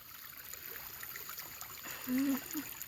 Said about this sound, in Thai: น้ำไหลตามคลอง